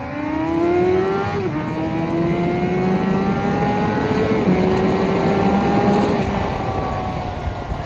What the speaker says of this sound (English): There's nothing quite like going full tuck on a sport bike, eh?